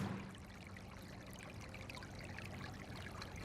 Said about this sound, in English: Making things a little more difficult, a babbling brook.